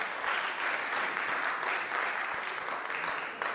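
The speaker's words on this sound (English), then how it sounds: "Let's give it one more round of applause for our two finalists in the Masked Singer competition." A school staff talent show audience applauds the two Masked Singer competition finalists, a sustained, even burst of clapping from a crowd filling the room, with a faint voice underneath.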